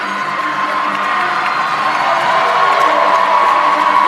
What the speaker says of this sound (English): You can see now that the crowd is getting behind them.